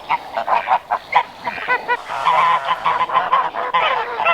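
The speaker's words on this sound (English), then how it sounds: "They're hissing at me." Geese guarding their three tiny goslings honk repeatedly at close range, a run of loud, harsh calls overlapping through the whole stretch, with no voices over them.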